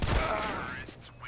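A loud gunshot from the Counter-Strike video game opens, then its echo fades while someone talks over the tail.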